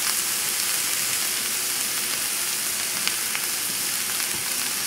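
Ingredients sweat in a hot pan for a stew of yellow split peas, beef, potato and corn, giving a steady, fairly loud, close sizzle with occasional faint pops.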